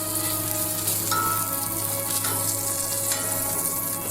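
Meat frying in a pan for red beans and rice, a steady, close sizzle running the whole time, with a few brief clatters of the food being stirred and no talk.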